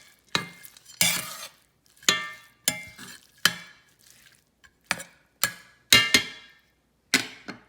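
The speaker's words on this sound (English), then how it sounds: "now we are going to add half of that into our ground beef and give that a quick stir" Ground beef mixed with crumbled bacon and chili seasoning being stirred for a chili, sounding as a string of roughly a dozen sharp scraping spoon strokes against the pan with brief pauses between, close and alone.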